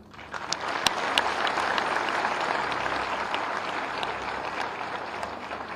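Sustained applause from a live comedy-show audience, dense and steady for the whole stretch, with no voices over it.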